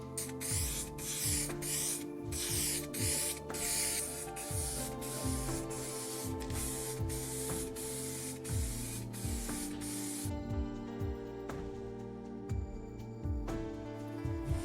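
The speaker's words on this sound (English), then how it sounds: "I'm also going to give it some coats of clear coat spray to make it smooth and shiny" Repeated bursts of clear coat aerosol spray onto oiled wood, a steady hiss broken into short rhythmic passes, close and fairly loud with no talking.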